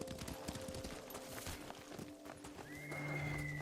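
Horses whinny in the samurai video game Ghost of Tsushima, one long clear neigh rising over a steady background of ambient game sound and hoof noise.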